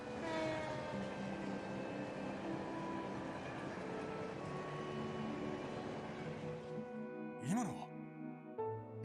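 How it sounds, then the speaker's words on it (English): A train rolls past at night in the video game Trails from Zero, a steady loud rumble with tonal music over it that fades out near the end, followed by a brief whooshing swell. "Is that the last train bound for Calvard?"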